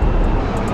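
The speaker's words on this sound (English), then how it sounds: "They got the helicopter out." A police helicopter flies overhead in Philadelphia, a loud, steady broadband engine and rotor roar that holds evenly through the brief moment with no talk.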